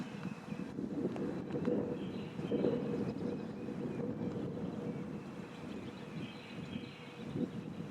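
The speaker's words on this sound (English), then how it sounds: "you do hear that wind picking up just a little bit" Wind gusting outdoors on a disc golf course during a tournament final, a steady broadband rushing that swells and eases in soft waves for the whole stretch, with no talk over it.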